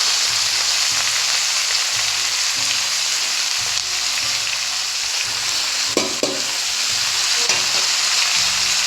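Cabbage fries and sizzles loudly in an electric wok, a dense steady hiss close up with a few clinks and stirring scrapes partway through, no voices.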